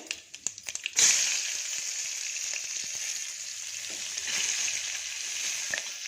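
Chopped ivy gourd and onion drop into a hot oiled pan with a sudden loud hiss, settling into a strong, continuous close sizzle with faint stirring scrapes and no talking.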